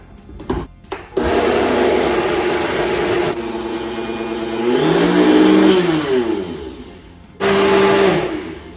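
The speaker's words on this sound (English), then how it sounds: "we're gonna put this lid on. And we're gonna blend this up." A blender purees sauce for a keto chicken Alfredo, its motor whirring loud and steady for several seconds, pitch dipping and rising as the load shifts, briefly cutting out before starting again.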